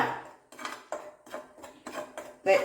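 A spoon stirs coffee powder and yogurt in a bowl, with about six quiet, rhythmic scraping clinks against the dish, close and alone.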